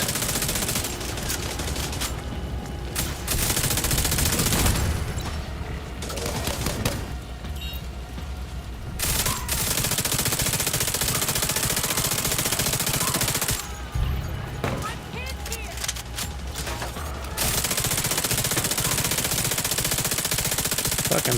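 Heavy gunfire in The Division 2 during a sniper fight: dense, loud bursts of shots roll on almost continuously, broken by a few brief lulls.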